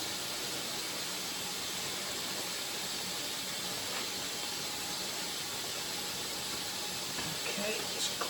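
Steam hisses steadily while thin wooden guitar sides are bent for a guitar build, a continuous broad hiss holding at an even level throughout.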